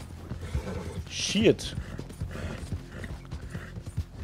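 A horse in the video game Red Dead Redemption 2 lets out a sharp, close neigh midway amid scattered hoof clip-clops and creaks, with a man's exclamation heard too.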